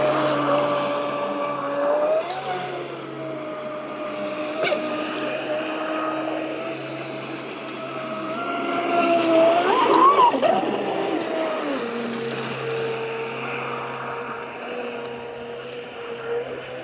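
A Traxxas Spartan RC boat running on 6S LiPo batteries across water: a steady, high-pitched electric motor whine that shifts pitch as it accelerates and turns, with a louder surge near the middle.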